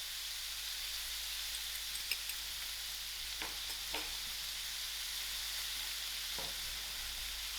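Calabash (loki) and dried shrimp sizzling in a pan, a constant hissy sizzle with a few faint scraping stirs, close but soft.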